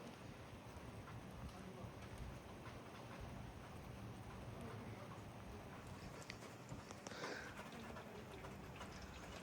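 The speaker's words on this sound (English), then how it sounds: "As you can see, it is raining." Rain falls steadily outside a house's front door, a constant soft hiss with faint wind noise against the microphone.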